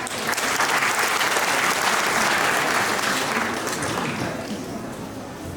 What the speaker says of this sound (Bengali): তো আমরা আবার তাদেরকে একটু ধন্যবাদ জানানোর একটু হাততালি দিই